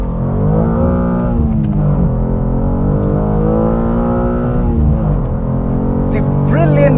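A new BMW M2's loud engine revs and roars up and down through the gears, its exhaust rumbling and popping close by, with a brief squeal near the end.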